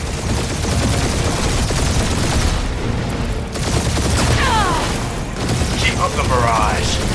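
Sustained gunfire barrage in the Guardians of the Galaxy video game, a loud continuous rumble of shots and booms with swooping energy effects, under speech.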